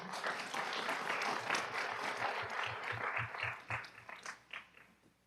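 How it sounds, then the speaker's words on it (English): A room applauds at a city council meeting honoring youth boys' champion teams, with dense clapping that holds steady, then thins into scattered individual claps and fades out. "Want to give everybody a round of applause."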